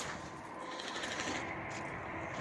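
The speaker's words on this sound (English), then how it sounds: "I just wired up a electric clickety-clack pump to it" Rapid, even clicking of an electric fuel pump on a Dodge wagon, a fast mechanical clatter running steadily and fairly faint with no talk.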